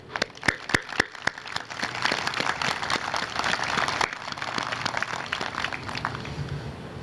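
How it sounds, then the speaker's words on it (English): Audience applause at a 2020 St. Peter's Prep graduation ceremony, beginning with a few distinct sharp claps and building into steady, moderately loud clapping from a crowd that continues throughout. "A round of applause to that."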